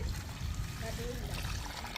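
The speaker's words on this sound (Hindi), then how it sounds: "गर्म पानी को ऊपर से ऐड करने से ये भाप से पकेगा" Hot water trickles and pours onto a rice-flour khichiya papad mixture in a pot set over a wood fire for steaming, a steady liquid splash and dribble running throughout under low background rumble.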